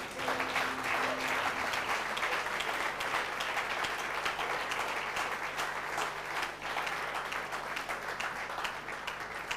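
A church congregation at a Sunday service applauds loudly and continuously, dense hand clapping filling the room for the whole stretch at a steady level.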